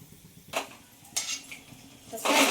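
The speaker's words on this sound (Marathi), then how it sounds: "आता अगोदर भाजून घेते मी" A few metallic clinks and scrapes of a utensil against a pan as sandge (dried lentil dumplings) roast in oil, three distinct bursts over a quiet, faint background hiss.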